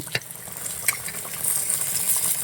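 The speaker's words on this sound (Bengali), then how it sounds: "এক পাশে রুই মাছ আর এক পাশে কুমড়োর চাক ভাজি" Rui fish pieces and pumpkin slices frying side by side in a pan, a bright continuous sizzle with a couple of sharp utensil clicks against the pan near the start.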